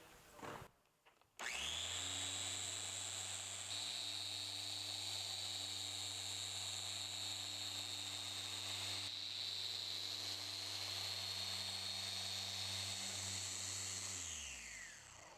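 Porter Cable 7424XP dual-action polisher working car paint, starting with a bump, then spinning up into a steady whining hum that holds for over ten seconds before winding down, close and uninterrupted.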